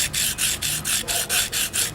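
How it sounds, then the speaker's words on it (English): A credit-card-size diamond steel sharpener is stroked across the flat of a Forstner bit in quick, regular back-and-forth passes, about eight close, crisp rasping strokes in an even rhythm. "you can touch up your Forstner bits and keep them nice and sharp"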